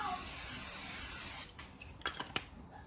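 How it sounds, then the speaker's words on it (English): A continuous aerosol baking spray hisses onto a pan for over a second, then stops, followed by a few light clicks and small handling sounds. "I'm going to take my baking spray. I'm going to spray my pan."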